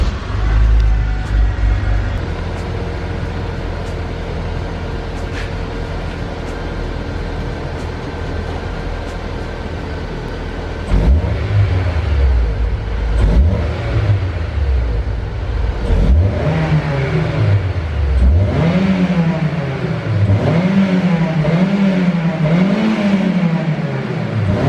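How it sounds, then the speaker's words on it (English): A Honda S2000 AP2 engine cranks and catches, then idles steadily before a series of sharp rising revs toward the end, loud and close with no one talking. "let me actually turn the car on and I'll give you a quick rev."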